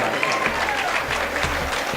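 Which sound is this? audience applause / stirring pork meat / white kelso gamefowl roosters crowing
audience applause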